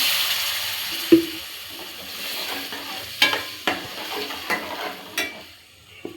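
Masala for kaju paneer masala fries in a pan with a little water added, giving a steady sizzle broken by several sharp clacks of a spoon stirring against the pan.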